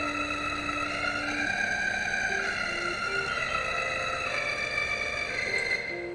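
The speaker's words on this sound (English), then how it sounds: "It has this screamy, crunchy type of sound that you can get from Doom." Screamy, crunchy distorted synth preset in the style of Doom Eternal's main menu theme: a sustained buzzing, harsh tone with shifting pitched notes layered over a dense, gritty bed, steady and fairly loud with no talking.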